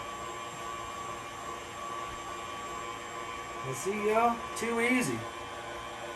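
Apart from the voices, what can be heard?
electric mixer running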